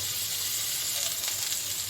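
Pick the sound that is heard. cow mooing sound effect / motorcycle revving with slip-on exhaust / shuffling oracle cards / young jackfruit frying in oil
young jackfruit frying in oil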